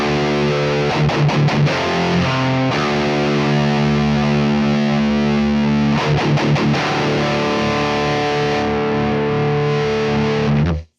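Electric guitar played through a Neural DSP Mesa Boogie Mark IIC+ amp simulator with heavy distortion, sustained chords with rhythmic palm-muted chugs in between, loud and close, ending abruptly.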